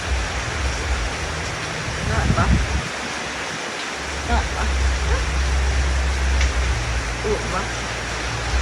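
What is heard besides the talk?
heavy rain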